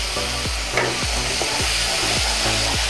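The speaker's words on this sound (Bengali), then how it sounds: "এই সব কিছু দিয়ে আমরা গ্রেভিটাকে ঠিক 2 মিনিট হালকা আঁচে কষিয়ে নেব" A spoon stirs a gravy of tomato puree, salt and ground spices as it sautés over low heat in a pan, with rhythmic scraping strokes about twice a second over a constant loud sizzle.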